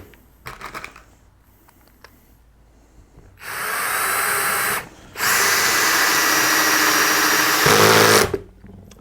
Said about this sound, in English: As soon as you hear the clutch goes on, it means that the motor has disengaged from the chuck and it stops screwing